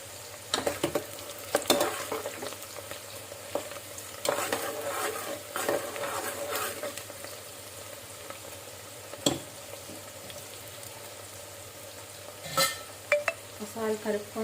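Onions frying in a pan for Telangana-style mutton curry, a low steady sizzle broken by scraping stirs and the occasional clink of a utensil against the pan, close and fairly quiet.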